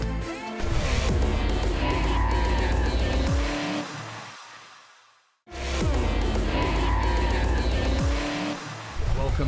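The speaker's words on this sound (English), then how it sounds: "there's plenty of racing coming up after the break with Motorsports TV Miniature Race Cars" Miniature race cars roar loudly at Winton Motor Raceway, engines revving and tires squealing as they pass; the sound drops briefly to near silence midway before the racing noise returns at full volume.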